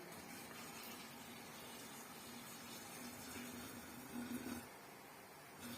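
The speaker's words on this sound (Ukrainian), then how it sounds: "Закипіла водичка, крутий кип'яток, обережно наливаю в баночку." Steady rushing of boiling water being poured into a glass jar, a continuous hiss and gurgle that swells slightly near the end, with no talking.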